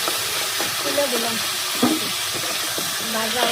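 Cauliflower and potato fry in a pan with a steady bright sizzle, while a spoon stirs and scrapes against the pan in short bursts.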